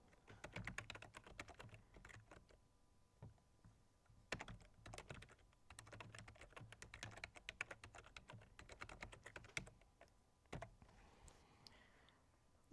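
Quiet clicking of typing on a computer keyboard, several short bursts of keystrokes separated by brief pauses, close and soft with no talk.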